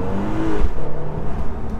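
A 2019 Mercedes E450 coupe engine revs loudly while driving on a road, a sustained near throttle roar with rising and swelling tone, no talking over it.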